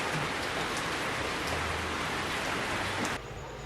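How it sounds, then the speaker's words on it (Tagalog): Rain falls steadily as a dense, even hiss close by, then eases off sharply near the end. "Pero inabutan ako ng ulan."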